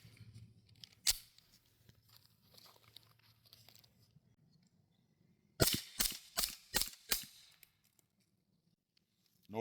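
Suppressed B&T APC9K SD-2 firing 124 grain 9mm ammunition: one sharp report, then a rapid string of about five muffled shots in quick succession, close and loud against a quiet outdoor background.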